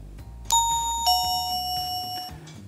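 SmartThings doorbell 'bell one' chime: a bright electronic bell struck twice, ringing tones sustaining and decaying clearly over a low background hum, with no talking.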